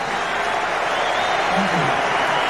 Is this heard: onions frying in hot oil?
no